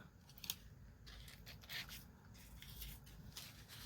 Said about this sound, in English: I'm just going to cut this like this and then cut around the handle part.